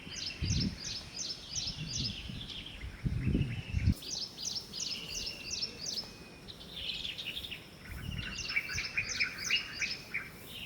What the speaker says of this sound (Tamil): white broad Bulbul